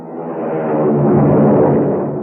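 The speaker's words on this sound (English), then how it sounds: "Hear that? It's the sound of a mighty American Airlines flagship taking off." An American Airlines flagship airliner takes off in a 1954 radio-drama sound effect, a loud, steady engine roar that swells and holds for a couple of seconds with no voices.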